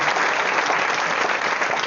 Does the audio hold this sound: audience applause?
yes